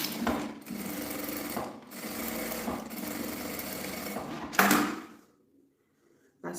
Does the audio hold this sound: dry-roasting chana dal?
no